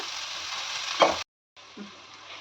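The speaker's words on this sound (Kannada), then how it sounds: "ಇದು ಲೈಟ್ ಪಿಂಕ್ ಆಗೋವರೆಗೂ ನಾವು ಹುರ್ಕೊಬೇಕು" Onions for Kannada egg gravy fry in smoking-hot oil in a pan, a constant sizzling hiss interrupted by a brief cut to silence before the sizzle resumes, with a small clatter near the start.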